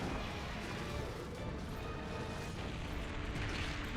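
A big explosion in the Monster Hunter Generations Ultimate video game, a dense, sustained roar and rumble filling the whole clip at steady loudness, with talk faintly mixed in.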